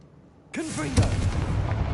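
A Confringo blasting spell fired in Hogwarts Legacy on PS5 lands as a sudden, loud blast, then trails into a rumbling, crackling tail. A voice calls out over the moment of impact.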